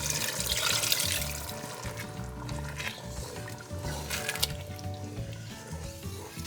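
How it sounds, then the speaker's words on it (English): Water is poured into a pot of simmering smoked catfish soup, with a gushing, splashing rush at the start that settles into a bubbling simmer. "And I'm going to add a little bit more water."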